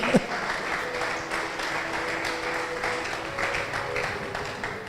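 A church congregation applauds during a sermon by Pastor Pascal Kouakou, a dense, sustained wash of clapping from many hands that lasts throughout, with a faint voice beneath it.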